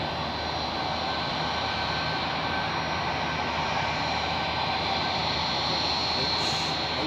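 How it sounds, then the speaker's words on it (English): Airport engine roar at Zurich as a Lufthansa Airbus A321 moves out, a steady, loud broadband rumble with a high whine that holds throughout, no speech. "And now the way is free for the Lufthansa A321."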